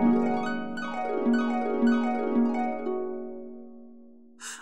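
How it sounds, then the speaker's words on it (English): Harp strings swept in several flowing runs, each one ringing out in bright, sustained notes, ending with a brief soft noise. "To play a harp, you sit down and run your fingers over the strings."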